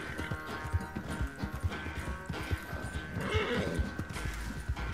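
Rapid hoofbeats of a galloping horse in Red Dead Redemption 2 with a neigh and whinny, steady rhythmic clatter over a constant background hum.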